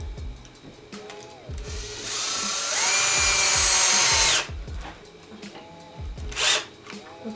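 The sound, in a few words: power drill driving screw into wood plate for DIY planter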